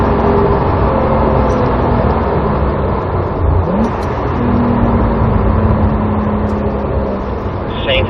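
A Porsche race car accelerates on a track, its engine a loud, continuous roar heard from close by. Pitch rises and shifts as the power comes on, with light wind rush and no clear talk.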